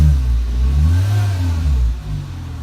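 A car engine revs steadily through a newly installed muffler, giving a deep, loud, continuous low rumble that swells and eases slightly with no talk over it.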